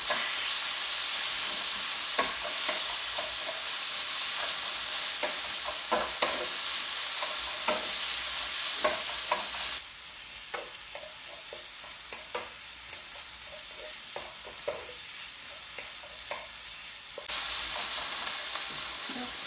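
Meat stir-frying in cooking oil in a pan for japchae, a steady broadband sizzle running throughout with scattered clicks and scrapes of stirring, no voices.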